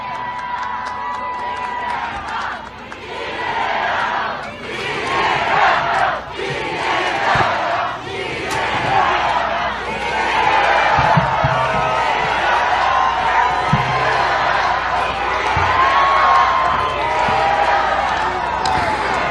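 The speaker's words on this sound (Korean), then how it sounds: "뜨거운 함성 부탁드리겠습니다." Outdoor political rally crowd in Eunpyeong, Seoul, erupting in loud sustained cheering and shouting in repeated surges, with an amplified announcer's voice calling out over the roar.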